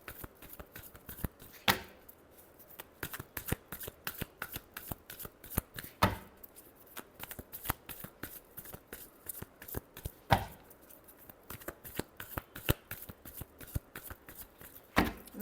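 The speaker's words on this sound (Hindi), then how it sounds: "Last shuffle." A deck of tarot cards shuffled steadily up close, a dense run of quick papery flicks and taps with a few sharper slaps, continuing without any speech.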